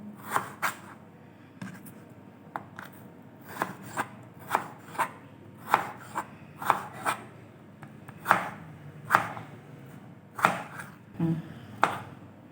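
Potatoes being chopped with a kitchen knife on a board, a steady series of sharp, close cuts about every half second with no talking.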